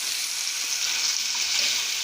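Onions and green chillies fry in a hot pan with a close, steady hiss and crackle of sizzling oil, and no voices.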